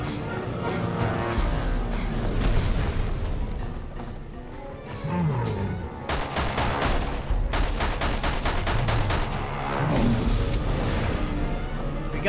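Dense bursts of gunfire in Resident Evil 6, rapid automatic shots and a fusillade of cracks over a loud game soundscape of engines and effects, with someone shouting at times.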